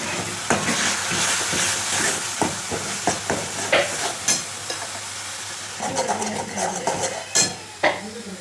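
A spoon stirs red chili powder and turmeric into dal frying in a pan, scraping and clinking against the metal in irregular strokes over a steady sizzle, close and fairly loud.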